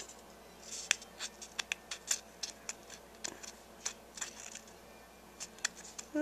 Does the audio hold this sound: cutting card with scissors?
yes